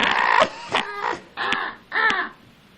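A person imitates a crow, letting out four loud, raspy caw-like cries in a row with short pauses between them.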